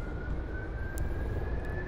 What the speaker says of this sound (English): You see, you'll hear the engines start to engage.